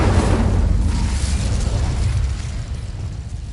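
A fire spell explosion effect, a deep rushing roar of flame that swells immediately and holds steady, loud and close, before gradually tapering off.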